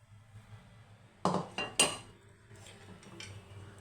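Metal cooking pots and a pressure cooker clank in a kitchen, with three sharp clattering knocks in quick succession followed by fainter scrapes and taps.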